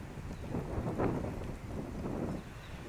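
Wind gusting outdoors in a low, rumbling roar that swells around the middle and then settles, fairly faint with no voices.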